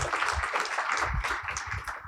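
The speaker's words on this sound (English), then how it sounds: "we just want to put a round of applause and give a memento to him before he leaves" Applause for a departing panel speaker at a commercial partnerships and strategy panel session, a steady wash of many hands clapping at moderate level throughout, with no one talking over it.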